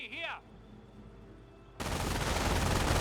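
A German MG42 machine gun in Company of Heroes opens up with a dense, continuous burst of loud gunfire that fills the second half, after a brief whistling tone and a quiet stretch.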